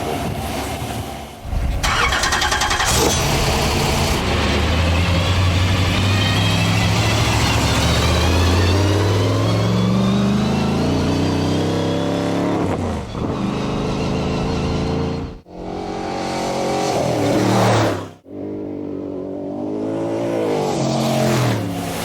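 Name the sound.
vehicle engine running while warming up new gears and brakes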